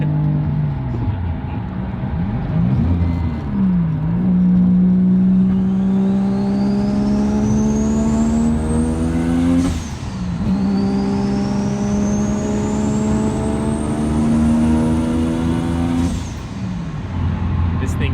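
A three-rotor Mazda RX-7 with a 75 mm turbo revs hard into boost and climbs in pitch, shifts, then climbs again, loud and close, with a voice briefly audible over it.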